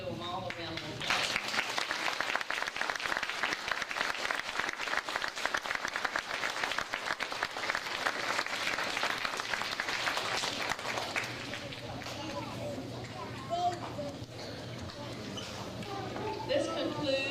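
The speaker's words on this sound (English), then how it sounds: "so we need to give them all a round of applause." Students and staff applaud at an elementary school honors assembly, a sustained, dense clapping from a large room that stays loud for most of the stretch before thinning slightly toward the end, with faint voices underneath.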